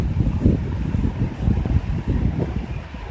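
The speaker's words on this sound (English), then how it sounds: "Wind just picked up a little bit" Wind gusting steadily across an exposed hiking trail on the Algonquin Highland Trail, a continuous rough rumble pressing on the microphone with no voices over it.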